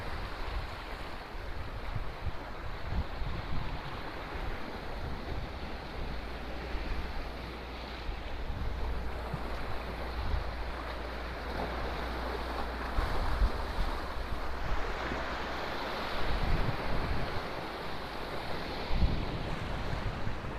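Ocean waves wash and surge steadily at a coastline under a strong, constant wind rumble, with mountains in the distance; no voices, just continuous rolling surf for the whole stretch.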